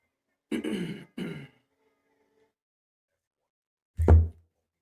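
Two short coughs close together, a pause, then one heavier cough or throat clear, near and fairly loud.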